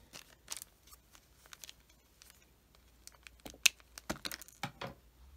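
Scissors cut apart a doll's little slider sandals and tote bag that are stuck together, giving scattered quiet snips and plastic clicks close by in a quiet room with no talking.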